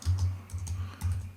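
Several quick keystrokes tap on a computer keyboard in a short, close burst of typing, with no voices.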